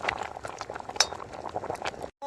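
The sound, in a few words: draining boiling water from cooked tapioca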